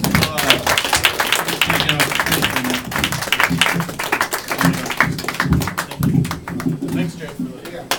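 Audience clapping at a live comedy show in Bishop's Lounge, sustained scattered applause under loud talking voices throughout.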